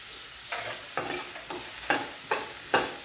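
Chopped onion with a little salt sautéing in a pan over a medium flame for a Maharashtrian kanda poha breakfast. A steady sizzle runs throughout, and six spatula stirs scrape through it at roughly even intervals. No one speaks.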